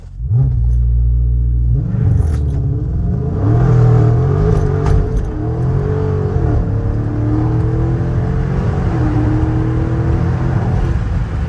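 A Dodge Challenger Scat Pack Last Call rumbles heavily at low revs, then its engine note climbs and falls through several revving surges during a launch, loud and close from the driver's seat.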